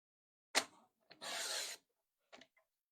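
Scissors cut off the corner of a sheet of Stampin' Up! patterned paper for a 12x12 scrapbook layout: a sharp snip, then a short rasping cut and a faint final snip, close and quiet with no talking.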